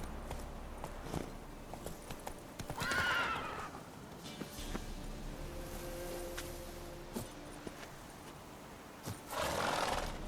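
Roach, a horse in The Witcher 3, whinnies loudly twice amid hoofbeats and clopping steps, the neighs standing out clearly against a quiet game background.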